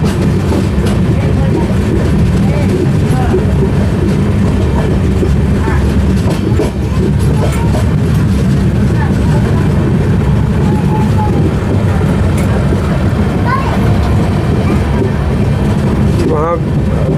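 An ALCO diesel locomotive, number BSP 664, on shunting duty at the SAIL Bhilai steel plant, heard as a steady loud rail rumble with clattering wheels throughout, along with voices.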